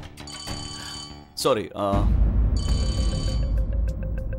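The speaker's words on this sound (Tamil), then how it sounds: "யார் ஃபோன் பண்றாங்க?" A telephone rings in two clear electronic bursts of repeated chiming tones, separated by a gap where a voice speaks briefly, with louder background sound under the second ring, in a Tamil television serial scene.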